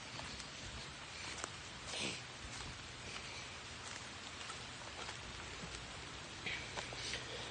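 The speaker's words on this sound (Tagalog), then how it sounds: "Kaya sa video na to, medyo maulan-ulan." Steady rain falling with scattered louder drips and patters on nearby surfaces, continuous and moderately close, with no talking.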